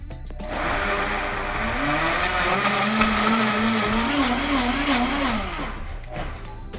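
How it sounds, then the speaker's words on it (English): A kitchen blender whirs through cantaloupe cubes with a little water, its motor spinning up to a loud, steady whine that wavers in pitch for about five seconds before winding down. "I'm gonna put them into a blender."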